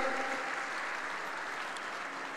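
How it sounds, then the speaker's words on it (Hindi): Crowd applause at a political rally in the Ratnagiri–Sindhudurg area, a dense, continuous roar of clapping from a large gathering, heard at a distance and fairly faint throughout. "जोर से ताली बजाओ नारायण राणे के लिए"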